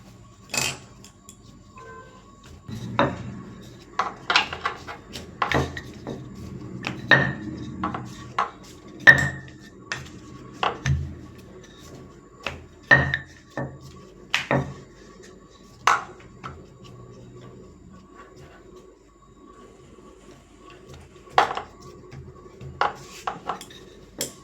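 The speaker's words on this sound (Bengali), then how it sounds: "দেখুন, আমি সব রুটি বেলে নিয়েছি।" Rotis of atta dough are rolled out on a board, giving irregular wooden knocks and clacks of the rolling pin that come in scattered bursts with quiet gaps between them, close and fairly crisp, with no talking.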